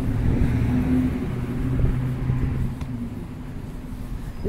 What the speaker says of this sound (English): Car from Texas right there.